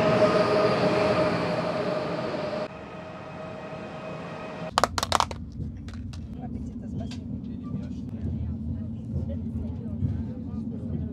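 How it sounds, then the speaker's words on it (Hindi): Interior of a high-speed bullet train on the Samarkand to Tashkent line, a steady low rumble with a broad hiss that drops away partway, then a few sharp clatters over continuing quieter rolling noise, with someone talking. "ये बुलेट ट्रेन का हम सफ़र करने वाले हैं"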